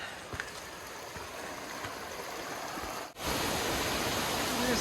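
Stream flowing beside a canyon hiking trail, a continuous rushing water sound with soft gurgles that grows louder and closer partway through, no clear talking.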